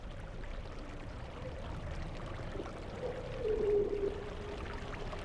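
Glacial meltwater flows in the ablation zone of a glacier as a steady, moderate rush and trickle that swells slightly partway through, with no voices.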